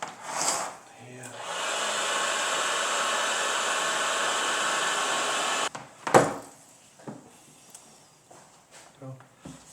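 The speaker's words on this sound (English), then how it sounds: "And then use your heat gun." A heat gun blows hot air while assembling a Glasshouse interconnect kit, a steady loud roaring hiss that holds for several seconds before cutting off, followed by a thud and light handling sounds.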